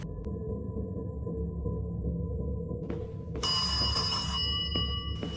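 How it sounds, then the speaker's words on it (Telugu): In the horror video game Kamla, a telephone begins ringing partway through, bright repeated tones cutting in over a low, dark ambient drone. "ఏ ఫోన్ రింగ్ అవుతుంది?"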